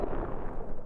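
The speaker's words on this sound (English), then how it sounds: "24 cannons installed permanently on the mountainside, detonated from a laptop," GAZEX avalanche control cannon detonating on a snowy mountainside in Canada, one of 24 permanently installed units, heard as a dense, rumbling low blast with rolling echo that fills the whole second without a break.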